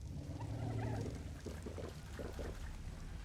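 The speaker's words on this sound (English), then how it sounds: "Refill his water jars." Water jars being refilled in the video game ARK: The Island, a steady pouring and gurgling liquid sound with a few bubbly glugs, alone without talk.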